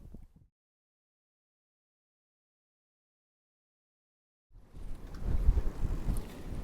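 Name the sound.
wind blowing at a harbour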